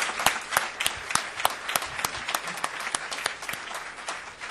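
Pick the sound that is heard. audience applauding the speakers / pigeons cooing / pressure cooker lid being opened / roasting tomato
audience applauding the speakers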